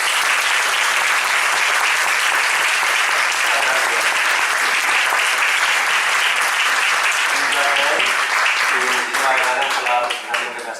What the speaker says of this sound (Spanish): Los invito a todos a darle un aplauso y a recibirlo a él.